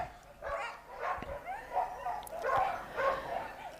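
A dog barks and yips repeatedly during an agility course run at an international agility festival, the barks coming in quick bursts over steady crowd and arena background.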